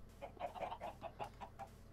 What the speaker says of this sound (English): I got a lot of chickens.